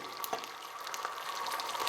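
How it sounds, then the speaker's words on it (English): A tablespoon of water hits a hot frying pan holding an egg, giving a steady hissing sizzle with scattered crackles, moderately quiet and without speech. "Put a little bit of water in,"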